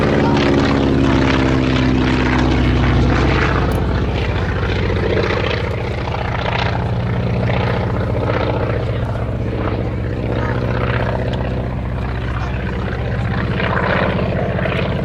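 A Naval Aircraft Factory N3N-3 all-metal biplane at an air show, its propeller engine droning loud and steady throughout with a deep, even tone and no break.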